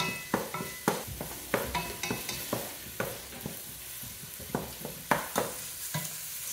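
Smoked paprika, red curry powder and garlic salt browning in a pan for spaghetti sauce, a soft steady sizzle with repeated stirring scrapes and light utensil taps, quiet and close.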